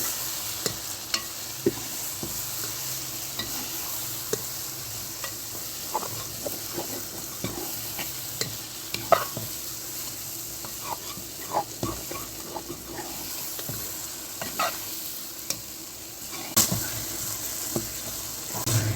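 Okra, egg, onion and spices fry in hot ghee with a continuous close sizzle, punctuated throughout by irregular spatula scrapes and metallic clinks from steady stirring.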